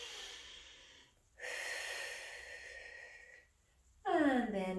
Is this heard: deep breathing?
yes